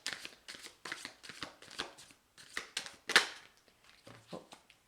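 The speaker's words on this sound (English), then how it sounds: "I will shuffle 2 more times." Tarot cards shuffled by hand in a quiet room, a series of crisp riffling bursts in an uneven rhythm, close and moderately loud, with one sharper snap near the end.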